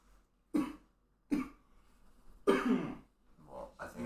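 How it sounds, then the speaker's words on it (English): A person coughs several times, sharp separate bursts with short pauses between them, close and fairly loud in a quiet room. "Oh, he can totally hear you coughing."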